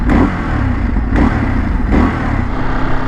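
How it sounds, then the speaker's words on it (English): Ducati Scrambler motorcycle revving with its exhaust note, a loud close engine roar that rises in three quick throttle blips over a steady idle rumble. "Time to listen to the exhaust note."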